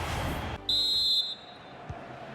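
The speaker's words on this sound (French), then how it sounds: "l'arbitre qui siffle à l'instant la fin" A referee's whistle in the FIFA 23 video game sounds one clear, sustained blast of about half a second over a crowd bed in a La Liga match between Atlético Madrid and Sevilla.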